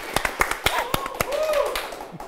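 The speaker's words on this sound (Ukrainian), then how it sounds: "Ваші оплески" A few people clap in slow, separate, sharp claps close by while voices murmur underneath, the claps fading out near the end.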